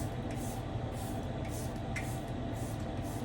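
A few quick misting spritzes from a makeup setting spray bottle, spaced about half a second apart, over a low steady background rumble.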